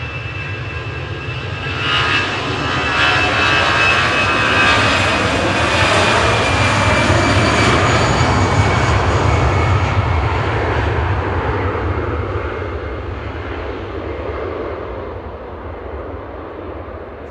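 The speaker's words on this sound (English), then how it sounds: "It's Des departing back to Dublin with flight 203." An airliner departing Manchester Airport for Dublin makes a loud, close jet roar with a whining edge. It swells over the first few seconds, holds strong, then gradually fades as it moves away.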